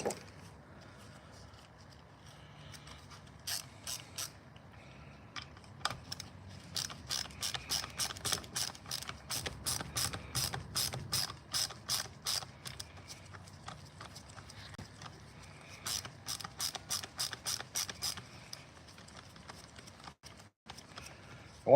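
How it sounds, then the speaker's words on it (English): Milwaukee ratcheting screwdriver working a screw loose on a chainsaw's chain brake cover, giving fast, crisp clicking bursts in several runs with brief pauses between, close and clear. "Milwaukee ratcheting screwdriver."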